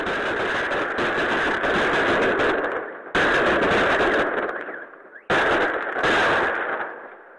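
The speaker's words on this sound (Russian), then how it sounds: "Тишину сначала нарушили звуки салюта" New Year holiday fireworks salute explosions, heard as three long, loud crackling bursts of rapid blasts, each fading out before the next begins.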